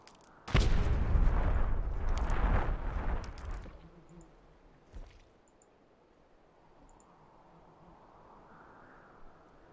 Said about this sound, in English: The main issue is dealing with secondary explosions